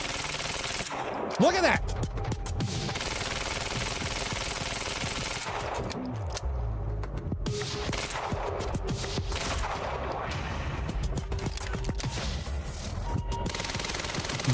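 Advanced SMG fire in the video game Quantum Break: sustained bursts of automatic gunfire with bangs and impacts, loud and near, over game effects, with someone talking briefly at the start.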